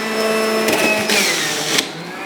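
A Breville Juice Fountain Cold XL juicer feeds on carrots one at a time, its high motor hum swelling into a loud, grinding roar as a carrot is shredded, then easing off.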